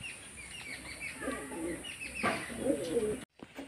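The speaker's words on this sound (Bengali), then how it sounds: "দেখুন বন্ধুরা, পায়রাগুলোকে খেতে দিয়ে দিয়েছি।" Pigeons being fed, giving soft cooing and chirping calls with occasional wing flaps, close by over low background noise, ending in a brief silence.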